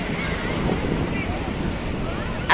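Sea surf washes onto a public beach in summer, a continuous roar of waves mixed with wind buffeting the microphone, fairly loud and even.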